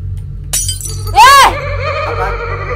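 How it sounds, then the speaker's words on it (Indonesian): In the horror video game The Child's Sight, a sharp crash of breaking glass lands suddenly, followed by a loud, eerie, wavering laugh-like cry, all over a low ambient hum. "Suara orang ketawa sama gelas pecah"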